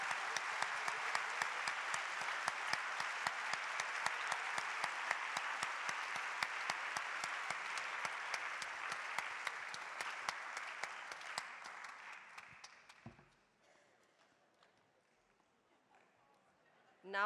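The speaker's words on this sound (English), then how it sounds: "So please give a big applause for Rob and for his talk." An audience at the 2023 Ecsite Conference applauds after Rob Hopkins's keynote talk. Sustained, even clapping with some sharp individual claps runs about twelve seconds, then fades away into near silence.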